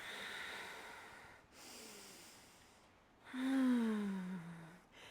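Deep, slow breaths during a hatha yoga pose: a long inhale, a pause, then a louder voiced exhale that sighs downward, close and intimate.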